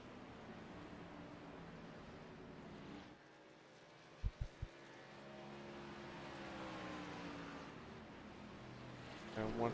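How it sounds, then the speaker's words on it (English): A race truck in a truck series at the Milwaukee Mile motors down pit road, its engine droning with shifting pitch, joined by sharp clanks and a rising rev near the end, faint and at a distance. "Got Rankin now brings the 49 truck down pit road"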